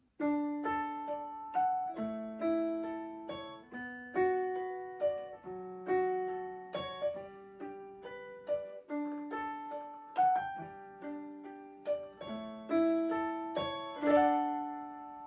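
Piano-tone notes from a digital guitar, a flowing melody with chords rising and decaying in steady phrases, played solo without speech.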